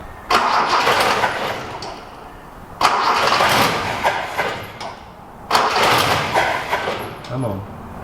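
Datsun 240C engine cranking and catching three times in a row, each start a burst of rough firing that sputters and fades as it runs on fuel drawn from a separate container, with voices talking in between.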